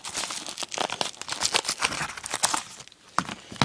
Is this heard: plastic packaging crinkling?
yes